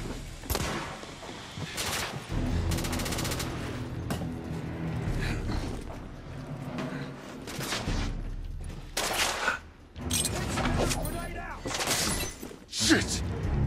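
Rapid gunfire bursts and sharp impacts from The Order: 1886 third-person shooter game on PS4, loud and repeated in clusters over about fourteen seconds, with players talking over the shooting.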